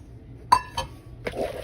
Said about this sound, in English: Now what we're doing, we're gonna add our eggs.